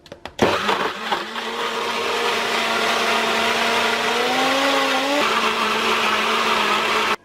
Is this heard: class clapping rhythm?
no